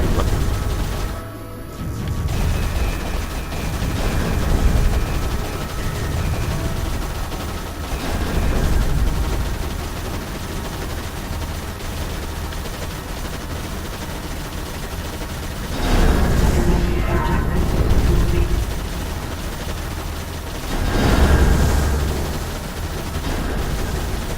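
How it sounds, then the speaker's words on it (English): Dense rapid gunfire and heavy explosive booms play constantly in the twin-stick shooter game Steel Storm: Burning Retribution, with loud bursts swelling every few seconds over a continuous rattling barrage. "generally what you're hearing in this game is gun sound, gun sound, gun sound"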